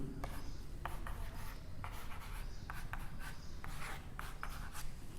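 Chalk writes the colour letters VIBGYOR on a board in short, scratchy strokes, repeated in quick bursts with small pauses between them, faint and close.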